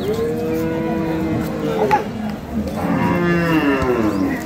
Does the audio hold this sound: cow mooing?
yes